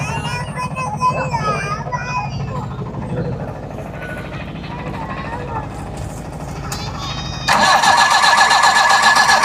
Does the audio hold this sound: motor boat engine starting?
yes